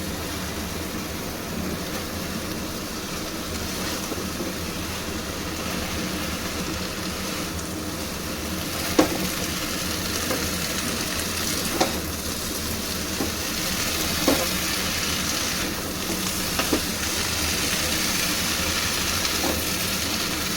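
Bottle gourd leaves frying in mustard-poppy seed paste, a steady dense hiss of cooking throughout, broken by a few soft clicks and knocks of a utensil against the pan, with no talk.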